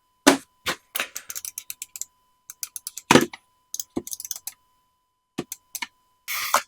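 Rapid bursts of small plastic clicks from the notched scroll wheel of a Logitech G303 Shroud Wireless mouse, coming in uneven runs with short pauses, loud and close with no talking.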